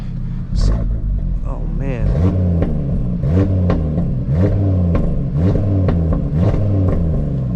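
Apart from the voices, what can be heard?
Audi RS3 engine revving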